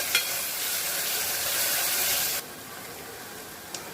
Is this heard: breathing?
no